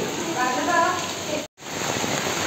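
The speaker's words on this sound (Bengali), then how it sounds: "রিক্সা চড়ে বৃষ্টির মধ্যে যাচ্ছি" Steady rain pours onto a waterlogged street in Kolkata, heard from a moving rickshaw as a dense, even hiss, with some talk mixed in before a brief dropout.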